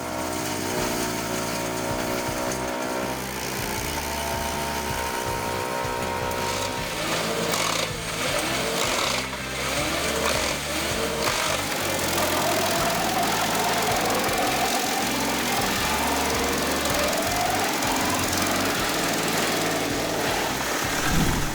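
A wood chipper with a changeable chip drum shreds wood for about twenty seconds, its loud engine thumping in a rough, pulsing rhythm under grinding and crackling.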